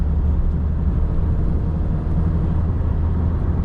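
A 1984 Pontiac Fiero engine runs while the car drives, a loud, steady low rumble with road and cabin noise that stays constant from start to finish, with no talk.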